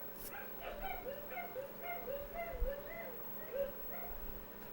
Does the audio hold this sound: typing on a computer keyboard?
no